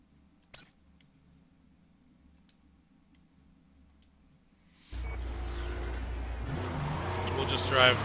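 A car in a video game, heard after a few quiet seconds with faint ticks, starting a steady loud engine drone that rises slightly in pitch as it drives on, close and continuous, under a voice.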